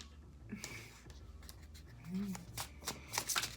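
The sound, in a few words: tarot card deck being shuffled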